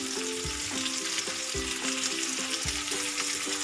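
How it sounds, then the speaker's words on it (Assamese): Potato chop pieces coated in gram flour batter fry in hot oil, giving a steady loud sizzle throughout with periodic bubbling bursts as pieces are turned, no voices present. "আপোনালোকে এয়া ৰঙা হৈ যোৱালৈকে ভাজিব"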